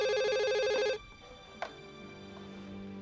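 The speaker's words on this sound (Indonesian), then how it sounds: "Nggak ada satu orang pun yang mau angkat telepon." A telephone rings loudly with a warbling electronic tone for about a second, then stops and leaves a quiet room with a faint click and low hum; nobody answers or speaks.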